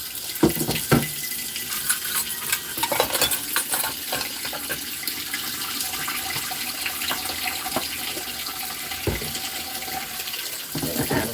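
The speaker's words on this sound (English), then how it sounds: "I'm going to add a little bit of water into this so it'll be easy to clean up" Water running from a tap into a container in a camper kitchen, a continuous splashing flow with several sharp clinks and knocks scattered through it, close and fairly loud, no talk.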